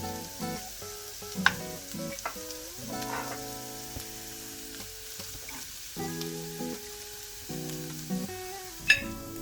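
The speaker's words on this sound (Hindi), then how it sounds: "हम थोड़े हमारे जो chopped carrots हैं, हम थोड़े से इसे फ्राई करेंगे ताकि वो थोड़े से सॉफ्ट हो जाए" Chopped carrots sizzling in a pan for chicken samosa filling, a steady soft crackle with occasional stirring scrapes and clinks, fairly quiet and without speech.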